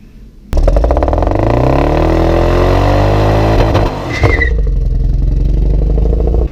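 A Lexus SC car engine cranks and starts, then revs up loud and close with a rough, Subaru-like burble, drops back and settles into a steady idle.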